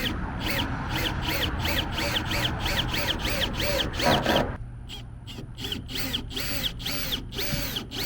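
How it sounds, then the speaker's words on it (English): A power drill whirs continuously with a regular pulsing rhythm, grinding into a wooden board; the tone shifts lighter midway as the motor keeps running close by. "That's where I'll drill into the board and then screw into the 2x4 below."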